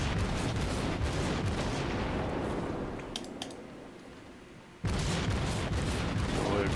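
Tier 4 Kuma cruiser guns firing in World of Warships, a dense continuous roar of naval gunfire with a quieter lull in the middle before loud volleys resume.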